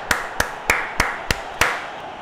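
Six sharp hand claps in an even, slow rhythm, close and distinct against a quiet background.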